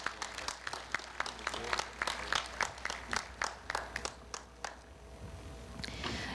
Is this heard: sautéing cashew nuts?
no